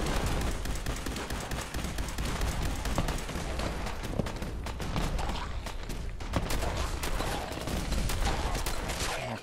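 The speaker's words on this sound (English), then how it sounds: "I'm gonna be shooting everyone." Heavy gunfire erupts in a Fallout 4 prison camp fight, with rapid overlapping bursts and single cracks firing almost continuously, loud and close, with occasional deeper booms beneath the barrage.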